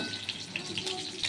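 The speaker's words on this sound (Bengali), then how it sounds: "এখানে মাছ ভাজা হচ্ছে।" Fish frying in a pan crackles with a soft, steady sizzle and scattered small pops, low in level, with no voices.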